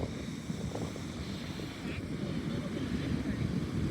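Big ocean waves roll in on the Southern Oregon coast at high tide in a continuous broadband roar, with wind buffeting the microphone and no speech heard.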